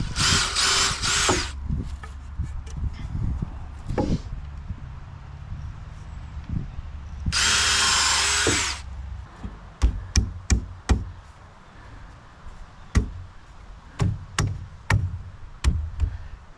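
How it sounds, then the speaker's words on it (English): A power drill bores pilot holes into a thin 2x2 wooden roost bar for a chicken coop, with two loud whirring bursts separated by bangs and knocks, followed by a quick run of sharp taps and clunks. "I'm going to drill pilot holes, one pilot hole on each side before I screw it in."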